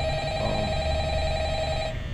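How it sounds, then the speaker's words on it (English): Telephone ringing in the video game Five Nights at Freddy's, a steady electronic ringing tone held throughout, moderately loud with faint background noise. "Answer the phone."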